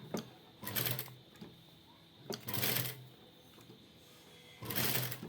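A sewing machine runs in three short bursts of rapid stitching on a princess-cut blouse, with quiet pauses between each run.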